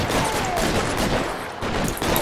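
Shootout gunfire between police and mobsters in the video game L.A. Noire, a dense, continuous wash of overlapping shots and noise at steady loudness, with a brief dip midway.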